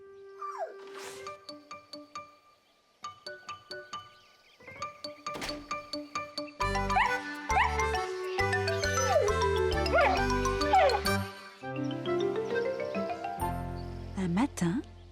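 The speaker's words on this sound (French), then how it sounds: "Snuffy est un adorable petit chien" A small cartoon dog barks in short yips and whimpers amid bright jingling and tinkling music, with a voice speaking through parts of the scene.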